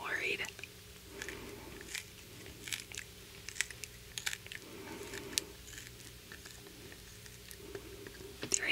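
Quiet, close crunching and cracking as a wooden pencil is bitten repeatedly, with soft whispering mixed in.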